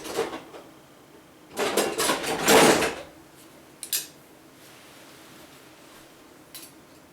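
Old, dull snips cut a piece of material with a close, rasping crunch lasting about a second and a half, then a short snip sound and faint handling noises afterward.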